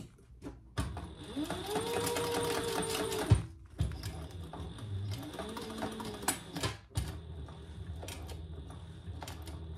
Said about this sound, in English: let's top stitch. And I usually start near one of the tabs.